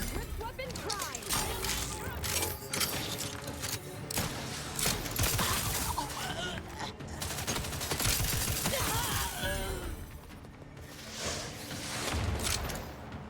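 Enemy gunfire in a firefight in Outer Worlds 2, at a monastery, with a dense, continuous stream of shots, mechanical clatter and impacts filling the scene at steady loudness, and a voice occasionally talking over it.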